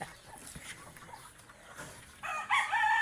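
Chickens cluck softly at a distance before a rooster breaks into a loud, close crow near the end.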